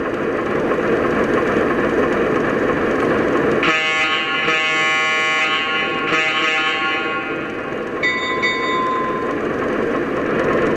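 A model train locomotive rumbles with dense noise, then a loud horn-like tone blasts in over it, pausing and sounding again in bursts.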